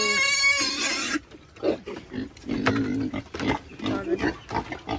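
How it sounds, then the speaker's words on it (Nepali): A large pig kept by a Limbu family gives harsh squeals, then a series of close, irregular grunts and snorts. "यहाँ पनि छ साथीको ठुलो सुँगुर"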